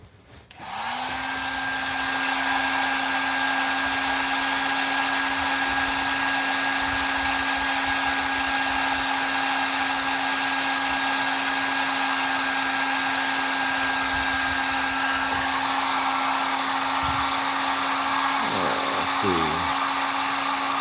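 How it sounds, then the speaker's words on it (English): A heat gun blows hot air onto a leather knife sheath in a workshop, a steady loud whooshing hum that starts abruptly and runs continuously, with a faint clatter near the end. "heat gun"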